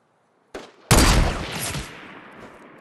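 Gunfire in Fortnite: a short click, then a loud, close blast of shooting that rings out and slowly fades.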